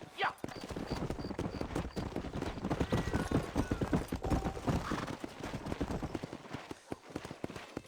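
Horse hooves clip-clopping at a gallop in the Western video game Red Dead Redemption, a steady rapid rhythm under continuous game music and ambience, with brief gunfire-like bursts in the mix.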